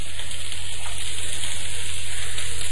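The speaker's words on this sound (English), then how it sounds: "And we let that simmer." Vegetables and beans simmering in a pan make a constant, even hiss and soft bubbling. It stays steady at close range for the whole stretch, over a low background hum, with no voices.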